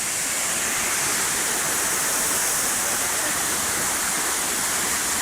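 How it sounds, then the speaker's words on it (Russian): The Dzhur-Dzhur waterfall in Crimea roars with a dense, constant rush of falling water, loud and close, with no break or change in level. "Водопад Джур-Джур."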